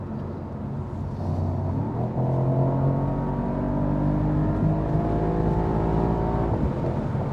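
A Mercedes-AMG SL55 engine drones steadily at speed on the Autobahn, a loud continuous roar with rising harmonic tones as it accelerates, heard from inside the car with no talking.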